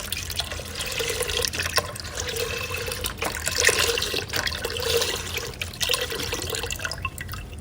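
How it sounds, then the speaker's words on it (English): Vegetable stock is poured steadily from a container into a pot for vegetarian split pea soup, a continuous splashing, gurgling liquid stream close by, with no voices. "And I'm gonna add my 2 containers of the vegetable stock."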